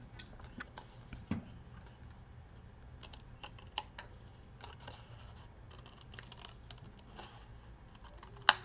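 A craft knife works through the fine detail of a creased low-poly papercraft piece, giving faint scattered ticks and light scratching taps at an uneven pace, with a sharper snap near the end and a low hum underneath.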